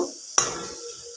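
A plate is set down over a pan of vegetables frying for veg chowmein, giving one sharp clink. Soft sizzling continues underneath and fades quietly afterwards.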